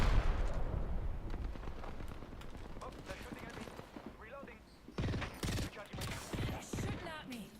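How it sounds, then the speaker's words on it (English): Apex Legends gunfire crackles in scattered bursts, faint and distant at first, then sharper, louder volleys near the end, mixed with game effects and voices talking over it. "They're shooting at me."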